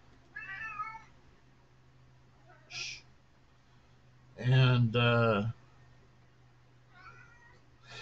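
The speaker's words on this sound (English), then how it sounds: "my cat's meowing behind me" A house cat meows behind someone talking about stock trading: one short faint call early, then a louder drawn-out meow in the middle, over a steady low hum from the room.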